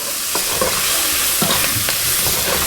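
Paprika, cumin, crushed red pepper and salt fry in a pan for camarones enchilados, stirred steadily with a spoon. A continuous close sizzle runs under soft scraping strokes, with no talking.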